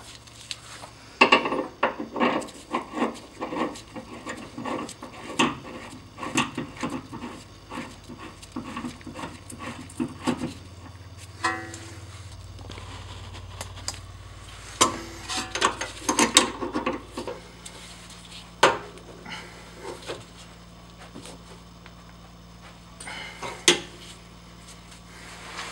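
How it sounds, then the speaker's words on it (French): New axial ball joint being screwed on and tightened by hand, a series of close metallic ratcheting clicks and clinks in irregular bursts with short pauses. "je vais venir visser la nouvelle rotule axiale là-dessus et je vais la serrer un tout petit peu"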